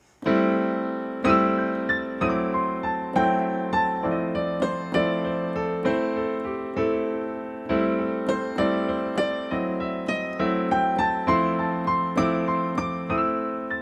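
Piano plays lively slow-blues phrases in a steady triplet rhythm, repeated notes and chords bouncing along, solo and fairly loud.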